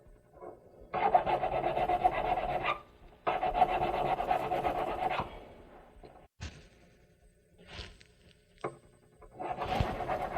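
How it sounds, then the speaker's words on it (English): A metal file rasps against the inside of a ring shank at a jeweller's bench, with two long close bouts of steady filing, then scattered lighter strokes and a final short burst, with no talking. "I file from one direction, then I turn the ring around, file it from the other direction"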